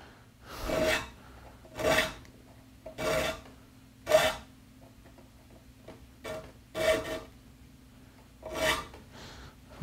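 A file rasps across the teeth of a hand saw clamped in a Gramercy saw vise, with about eight evenly spaced, crisp strokes separated by short quiet gaps.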